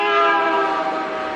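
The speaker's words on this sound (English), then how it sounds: "The only thing that does work is this lousy horn." A car horn from the Evil Dead film sounds one long, steady, loud tone of layered harmonics, held without a break, alone with no talking over it.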